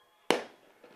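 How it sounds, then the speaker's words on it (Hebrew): Fireworks at a football match go off in one sharp, loud bang that decays over a fraction of a second, followed by a fainter crack, with crowd noise low in the background. "עוד פעם זיקוקים"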